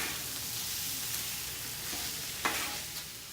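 Chorizo frying in a pan for taco filling, a steady close sizzle with a sharp stirring scrape midway and a softer clatter just after.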